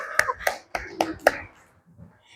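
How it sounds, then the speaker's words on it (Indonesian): A small group gives brief applause of about five sharp, evenly spaced claps that fade out quickly. "Oke, kita beri tepuk tangan ya."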